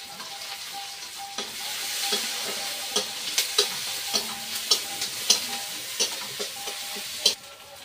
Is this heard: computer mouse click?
no